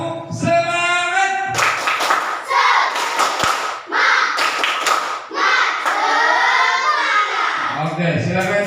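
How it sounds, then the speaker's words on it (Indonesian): A classroom of students performs a rhythmic spirit clap, with loud bursts of clapping and thumps falling in patterned groups while young voices chant along between and over the beats. "Tepuk semangat"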